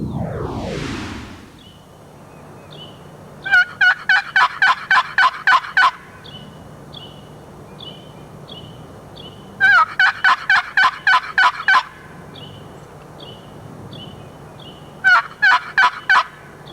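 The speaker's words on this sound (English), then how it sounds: "although we heard numerous gobblers at daybreak" Wild turkey gobblers at daybreak on a South Carolina hunting plantation, sounding three separate loud, rapid rattling gobbles spaced several seconds apart, each a burst of quick warbling notes, with a low rustle before the first.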